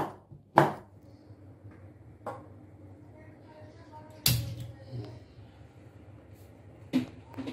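Pointed gourd being chopped with a knife, a few sharp separate cuts spaced over several seconds above a steady low kitchen hum.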